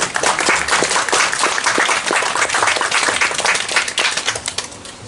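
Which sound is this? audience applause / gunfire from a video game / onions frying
audience applause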